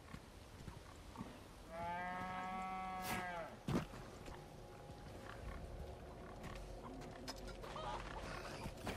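A cow in the video game Resident Evil 4 moos once in a long, drawn-out low call, followed by a sharp thud, over a quiet background of ambient noise.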